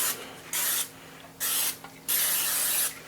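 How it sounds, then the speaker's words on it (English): Butter cooking spray hisses into a baking dish for a taco bake in three close, sharp bursts, the last and longest nearly a second, with faint background hum between them. "So I'm using the butter cooking spray,"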